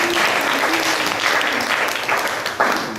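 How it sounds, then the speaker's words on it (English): A church congregation at a youth Sunday service applauds, dense sustained clapping from many hands filling the room throughout, loud and close. "Clap for yourselves."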